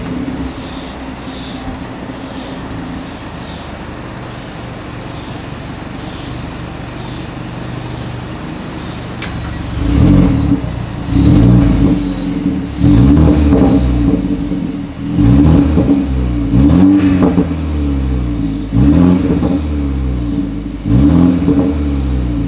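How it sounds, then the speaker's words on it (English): A 2020 BMW 330i exhaust idles steadily, then gets blipped with a series of sharp, loud revs that rise and fall in quick bursts. The car is close by and nobody speaks. "As always, here is that exhaust clip."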